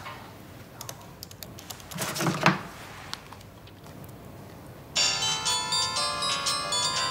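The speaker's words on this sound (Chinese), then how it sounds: "你打一下我电话，看我电话坏了没？" A mobile phone rings with an incoming call, starting partway through as a loud, repeating melodic tone that pulses steadily. Quiet clicks and rustling come before it, and no one speaks.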